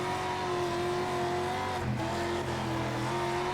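A dirt-track race car in the World of Outlaws Dirt Racing video game roars at steady high revs as its wheels spin on the loose surface, a constant loud engine drone with a brief dip midway.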